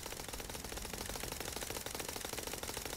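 Continuous rapid machine gun fire in Cepheus Protocol, a dense unbroken rattle of shots at steady volume throughout, with no pauses.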